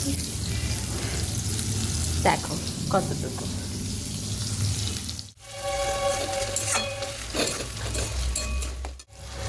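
Eggplant frying in a little fish oil in a pan makes a moderate sizzle with occasional scraping stirs, broken by two short pauses, while a voice speaks briefly over it.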